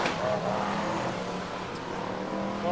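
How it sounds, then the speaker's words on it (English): BriSCA F1 stock cars racing at Skegness in 1994, a continuous roar of engines revving around the track with a slight rise near the end. "BriSCA 401 stock cars"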